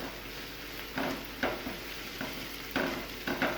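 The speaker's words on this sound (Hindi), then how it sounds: "साथ ही मैं इस पर ऐड कर दूंगी 1 टेबलस्पून चॉप्ड लहसुन। इसको हम हल्का सा फ्राई करेंगे।" Chopped garlic frying lightly in a pan over medium flame, a steady soft sizzle broken by several louder stirring scrapes and clinks, close and without any talking.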